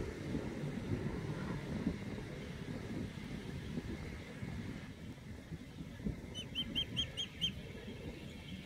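Month-and-a-half-old Muscovy ducklings out on the grass give a brief run of faint high peeps near the end, heard over a steady outdoor wind rumble.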